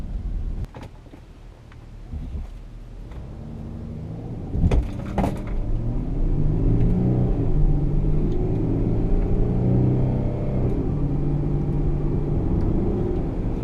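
A few clicks and thumps, then the 3.0 TDI diesel engine of a 2007 Audi Q7 builds from idle into a steady, rising rumble as it pulls away from standstill in sport mode, heard from inside.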